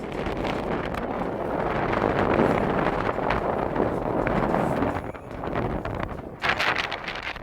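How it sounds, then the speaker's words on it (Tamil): Strong wind roars in gusts over Yamuna Nagar, Kanuvai, Coimbatore, buffeting the microphone with a broad rushing noise that swells and eases without pause. "கோவை கணுவாய் யமுனா நகர் பகுதியில் திடீரென வீசிய சூறை காற்று."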